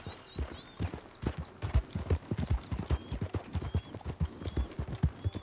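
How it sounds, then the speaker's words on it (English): Horse hooves clip-clopping at a steady trotting rhythm in the Red Dead Redemption video game, fairly quiet and clear, with no talk over them. "Get on my horse."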